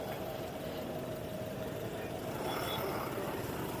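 Traffic engines idle near a signal in Ganapathy, Coimbatore, a low, steady rumble of cars and trucks heard from a little distance, faint and continuous with no voices.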